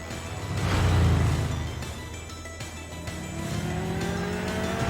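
An animated fight scene opens with a motorcycle engine roaring, a loud swelling rev that settles into a sustained whine climbing steadily in pitch, with no talking.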